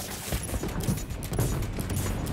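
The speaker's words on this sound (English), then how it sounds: "Fireworks! They're lit!" Fireworks going off in the Marvel's Spider-Man 2 video game, a dense rapid crackle of bangs and pops layered over rumbling booms, loud and continuous throughout.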